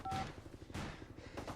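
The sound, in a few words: phone speed-dial tones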